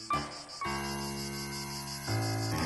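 Cicada courtship song, a steady buzzing insect chorus with a sustained metallic drone that pauses briefly near the start and swells again toward the end, heard alone and fairly loud.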